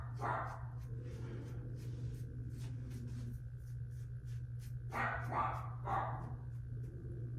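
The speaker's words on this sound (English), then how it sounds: "I hate having him bark in the background of these videos, but our house echoes." A dog barks from the room next door in an echoey house, a few muffled, reverberant bursts spread across the stretch over a steady low hum.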